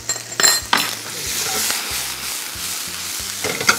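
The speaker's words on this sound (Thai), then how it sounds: "กุ้งเราเริ่มสุกแล้วผม เติมน้ำปลานะครับ" Shrimp stir-frying in a hot pan as fish sauce goes in, a steady sizzle broken by metal utensil scrapes and clinks against the pan, with low tonal hum underneath and no talking.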